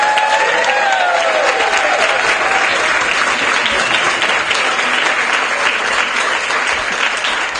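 A keynote and awards audience gives loud, sustained applause for the chef Mike, with clapping and some cheering filling the room evenly from start to finish.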